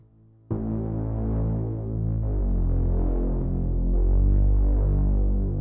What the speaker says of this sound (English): they use a Reese bass, which sounds really simple like this